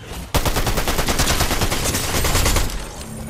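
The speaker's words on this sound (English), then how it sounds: "One shot is all it takes." Gunfire in the Fortnite video game: a loud, sustained burst of rapid shots rattles off in a steady rhythm for a couple of seconds, then stops abruptly, with no voices.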